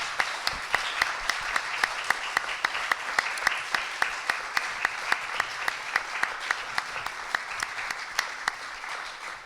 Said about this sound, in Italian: Direi un grosso applauso a Massimo Cacciari